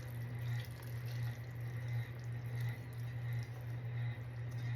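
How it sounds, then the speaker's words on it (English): Broth mixture pours steadily into a summer squash casserole, a soft continuous liquid splash with a low hum, close and fairly quiet with no talk. "Now I'm going to pour in all of my broth mixture."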